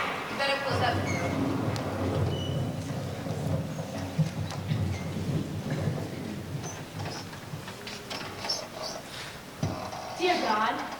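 Steady rain with rumbling thunder during a stormy night, a continuous wash of storm noise running under people talking throughout.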